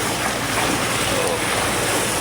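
Choppy sea during the onset of the southwest monsoon, with broadband rushing surf and wind buffeting around a boat, steady and loud throughout the short stretch with no clear talk.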